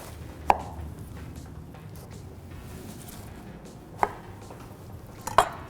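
A knife cuts through a whole pineapple to quarter it, giving three sharp, isolated chops spread over a few seconds against a quiet kitchen background.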